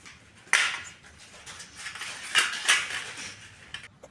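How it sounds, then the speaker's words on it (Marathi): Peeled carrots are grated on a small hand grater for carrot halwa, giving close, intermittent rasping scrapes in short bursts with brief pauses between strokes. "या किसणीनेच आता मी किसून घेणार आहे सगळे."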